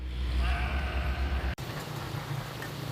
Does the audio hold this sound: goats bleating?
yes